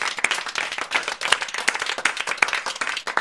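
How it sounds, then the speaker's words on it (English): A small group claps at a gathering, the individual hand claps distinct and uneven in rhythm, fairly close and moderately loud, with no talking. "give yourselves a round of applause"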